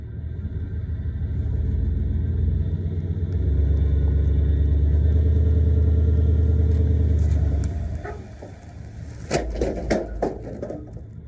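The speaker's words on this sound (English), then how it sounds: "the truck is tied off to Caleb's truck" A pickup truck engine rumbles and strains steadily for several seconds while pulling another truck tied to it, then eases off, followed by some clattering and knocking sounds.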